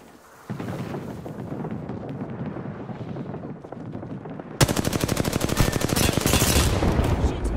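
Gunfire in an Apex Legends match: a low, rumbling mix of distant shots gives way to loud, rapid, sustained automatic fire close by.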